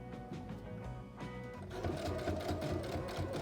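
A sewing machine stitches fabric for a bag in short quick bursts, its motor whirring and needle chattering close and steady, speeding up toward the end.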